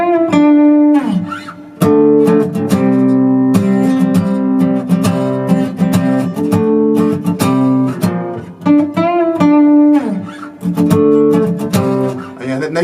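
An acoustic guitar plays a part of a song, with rhythmic strums and riffed notes that run continuously, loud and close, with short breaks between phrases.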